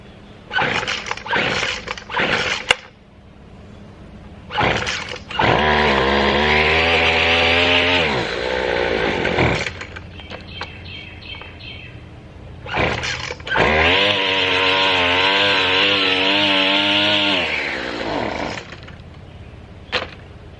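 A chainsaw is pulled over with several short sharp rips, then fires and roars loudly at high revs for a few seconds, cuts out, and after more pulls starts again and runs hard before stopping.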